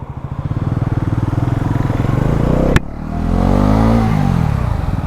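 A brand-new Bajaj Pulsar NS400Z motorcycle engine drones loudly and steadily, then gives a sharp click midway. The revs climb again in a rising, throaty pull, heard up close.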